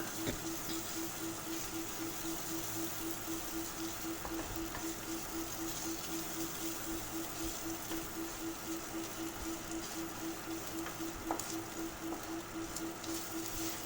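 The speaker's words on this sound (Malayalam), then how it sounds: "വെളുത്തുള്ളി ചതച്ചതും അതുപോലെ ഒരു കഷ്ണം ഇഞ്ചി ചതച്ചതും കൂടി ഇട്ട് കൊടുത്തു" Crushed garlic and ginger fry in a pan with a soft, even sizzle throughout, punctuated by a faint repeating tick and an occasional stir, fairly quiet and close.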